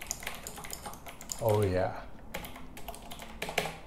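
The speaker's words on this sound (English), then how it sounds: "Now I'm a very fast typer because I'm a touch typer, so let's test it out." Fast touch typing on a mechanical keyboard with built-in JBL speakers, a quick patter of close key clicks broken by a short spoken interjection and a brief tonal sound before the rapid tapping resumes.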